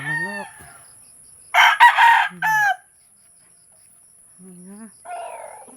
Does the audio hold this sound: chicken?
yes